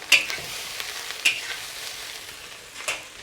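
Nasi goreng kampung rice being stir-fried in a pan over medium heat, a soft continuous sizzle broken by a few sharp scraping clinks of the utensil against the pan, close and without speech.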